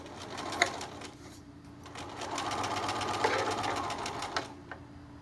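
A sewing machine stitches the lining seam of a zipper case, running steadily through the whole stretch with a rapid needle patter and a few sharper clicks as the fabric is turned.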